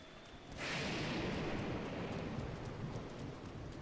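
Thunderstorm in Zelda: Breath of the Wild: quiet for half a second, then a sudden broad rumble and rush of rain. It holds steady and faint to the end.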